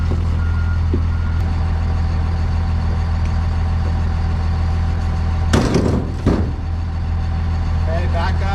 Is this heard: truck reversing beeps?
yes